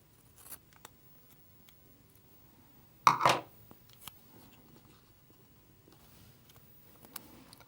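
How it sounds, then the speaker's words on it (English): Scissors snip close by through planner decorations in a quiet room, one sharp crisp cut standing alone against faint rustling and small handling taps. "I think I'll just have to cut these off."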